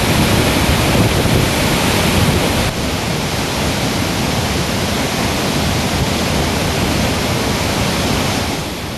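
Floodwater from the Jurala dam on the Krishna river pours out in a dense, continuous roar, loud and steady without break, no voices.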